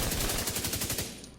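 Rapid automatic assault rifle fire in The Division 2, about a dozen evenly spaced shots in a fast, loud burst that stops abruptly and leaves a short fading tail.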